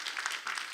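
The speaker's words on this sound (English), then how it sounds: "let's give them another warm round of applause" Applause from an audience at a cultural forum in Hong Kong, heard as a short, moderately loud patter of clapping in a hall.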